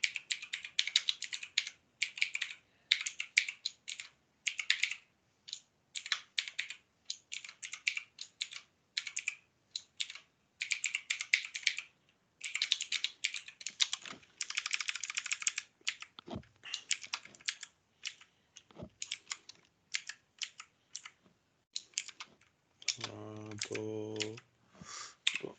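Computer keys are typed in rapid bursts with short pauses, close and crisp, over about twenty-five seconds, with a brief tonal beep or hum near the end.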